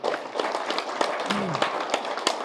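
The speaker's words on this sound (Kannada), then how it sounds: "ನೀವು ಮಾಡಿರುವಂತ ಧ್ಯಾನಕ್ಕೆ ಜೋರಾಗಿ ಚಪ್ಪಾಳೆ." An audience claps loudly after a guided meditation session, a dense crowd of hand claps rising and falling, with a voice briefly heard among them.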